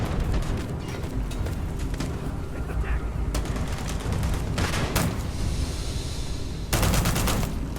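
Gunfire and a grenade blast in the Starfield video game make dense, continuous bursts of shots and explosive crashes, loud and close, with a sharper burst near the end.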